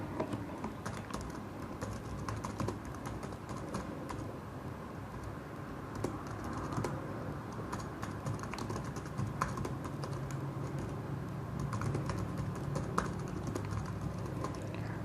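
A title is typed on a computer keyboard while working in Excel, with steady, close, fairly quiet key clicks running continuously for about fifteen seconds without speech.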